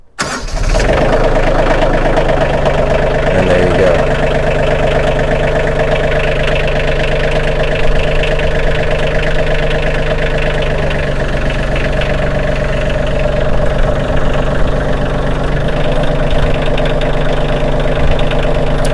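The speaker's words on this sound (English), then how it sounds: "I'm just going to start this real quick so you can hear it run" A Kioti CK2610 tractor engine cranks and catches, then settles into a loud, steady chugging idle close by; a voice speaks briefly near the start.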